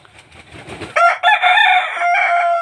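Kadaknath chickens cluck softly at first, then a rooster breaks into a loud, close crow that holds for almost two seconds, with no other voices present.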